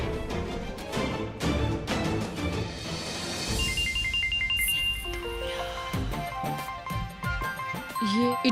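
A mobile phone ringtone plays indoors during a TV drama scene, a bright repeating electronic melody that enters midway and continues over background music and sound.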